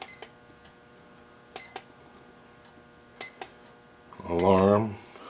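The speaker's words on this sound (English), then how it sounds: "Alarm. I thought there was a stopwatch on this." An electronic alarm on a handheld device beeps in a short burst of repeated tones, preceded by a few faint clicks, sounding close by in an otherwise quiet room.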